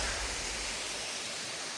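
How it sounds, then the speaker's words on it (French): A mountain stream flows in a continuous, broad rushing wash of water, close and fairly loud, with no other sounds. "Allez, nous revoilà au ruisseau."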